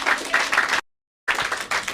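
A crowd at a live music venue claps for an opening blues act, with close, dense applause that cuts out into a short silence before resuming.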